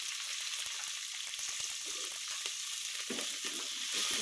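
Mustard seeds, cumin, dried and green chillies and curry leaves sizzle in hot oil for a pongal tempering, a loud continuous close fry with small crackles and a few stirring scrapes throughout, with no talking.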